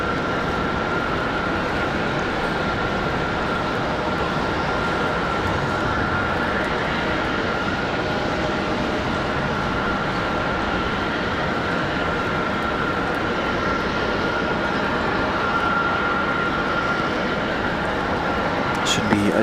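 A steady, loud jet engine roar from an airliner departing Raleigh-Durham International Airport on a snowy day, holding constant throughout at a distance.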